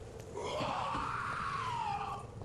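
A drawn-out, wavering scream rises and falls for about two seconds at steady loudness in the video game Vampyr, set down a dark street alleyway, with a low murmur underneath.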